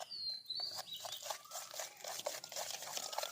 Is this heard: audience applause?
no